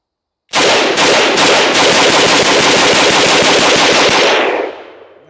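A rifle empties a 20-round magazine outdoors after a stuck chamber and hand-seated bolt, a loud rapid burst of closely spaced shots lasting about four seconds, then a quick fading echo.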